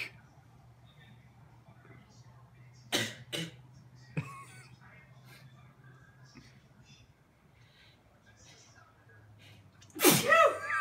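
Two sharp sneezes, a few seconds apart, then a third burst louder near the end, over a steady low hum in a quiet room.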